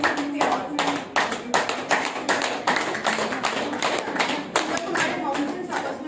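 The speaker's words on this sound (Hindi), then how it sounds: "तो जब हम ये ताली इस प्रकार से बजाते हैं" Hand clapping for acupressure, with firm, evenly spaced claps repeating steadily and close by, about a dozen sharp slaps with brief pauses.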